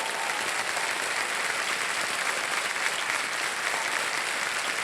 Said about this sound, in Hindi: ओके, ताली बज जाए इनके लिए।